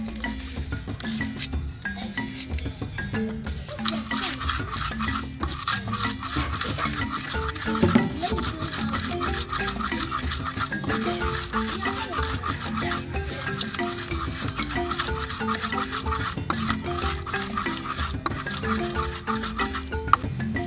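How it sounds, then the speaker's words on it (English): Steady, continuous grinding of garlic, ginger, onions and pepper by hand in a Ghanaian village kitchen, a rough rubbing scrape that repeats without pause at a moderate, even level. "we add the garlic and ginger and continue grinding until smooth"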